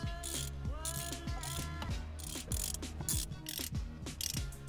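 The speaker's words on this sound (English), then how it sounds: "There's 4 bolts on the back side of this wheel, so let's go pull this off." Ratchet wrench backing out 10 mm bolts from the rear of a Mazda Miata steering wheel, rapid clicking bursts repeating in quick strokes, close and loud with no talk.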